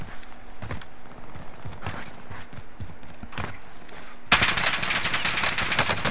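Call of Duty Warzone battle royale gunfire in Verdansk: a string of sharp shots spaced irregularly, some near and loud, before a dense burst of continuous roaring noise takes over at the end.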